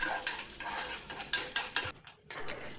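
Moong dal being stirred in a pot with slit green chili and fenugreek seeds: a spoon scrapes and clinks against the metal in repeated close strokes, with a faint sizzle beneath and a brief pause near the end.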